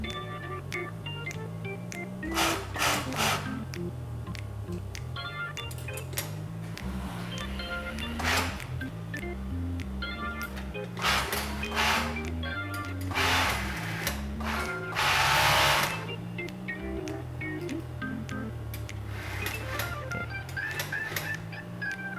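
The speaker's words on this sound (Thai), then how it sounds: "ขั้นตอนนี้นะครับจะเป็นขั้นตอนการเย็บประกอบชิ้นส่วนแขนเข้าไปกับลำตัวนะครับ" An industrial sewing machine stitches T-shirt sleeves onto the body in a garment production run, with repeated bursts of fast mechanical whirring and clatter between pauses and a steady low machine hum.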